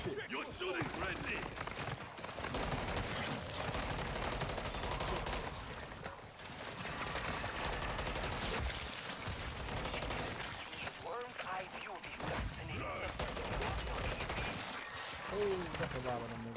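Dense, continuous video-game gunfire during a live stream, rapid bursts of shots layered thickly across the whole stretch with voices talking over it.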